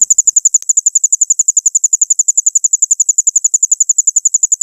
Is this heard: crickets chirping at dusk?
yes